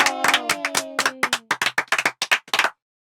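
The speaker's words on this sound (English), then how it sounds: "Claps everybody for this group." A group of students in a classroom claps in a quick burst of sharp, rhythmic claps that thins into separate claps before stopping abruptly, with a voice briefly heard underneath at the start.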